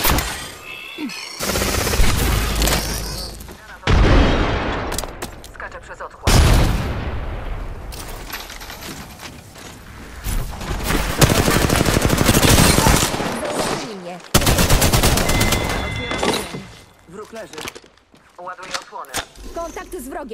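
Gunfire in the video game Apex Legends: loud, close bursts of automatic fire and rapid shots in dense clusters separated by brief lulls, with booms and game voice callouts mixed in.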